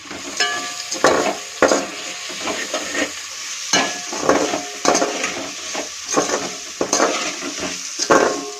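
Tomatoes and onions sauté in a pan with salt as a spoon stirs them, giving a steady close sizzle broken by repeated scraping and clacking strokes against the pan, with no voices.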